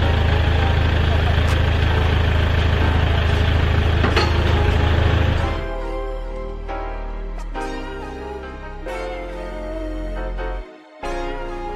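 A small motorbike engine runs close by in a Malaysian village, its steady low rumble and idle holding throughout, loud at first and then somewhat quieter with brief changes in pitch, with a short cutout near the end.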